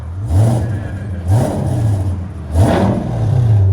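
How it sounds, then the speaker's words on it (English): Exhaust valves on a 2021 Chevy Corvette C8 with a 6.2L V8 and aftermarket exhaust rattle as the engine blips, three rising revs close by, each with a buzzy metallic edge. "The valves are rattling."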